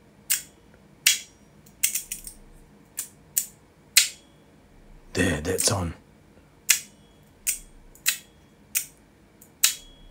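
A ringing fidget slider toy gives sharp metallic clicks about once a second, with a brief burst of rattling in the middle, close and crisp, while a voice speaks briefly.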